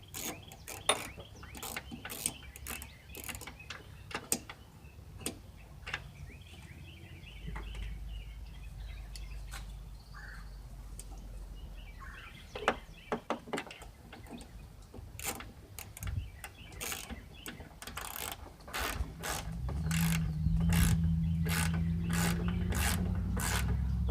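Ratchet socket tightening bolts on a Jeep Grand Cherokee rear ladder with stacked rubber washers: a long run of close, uneven ratcheting clicks and metallic rubbing, pausing now and then, with a steadier low rumble near the end.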